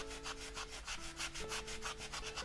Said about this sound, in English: This sanding block is so old that isn't funny, but it still seems to be working okay.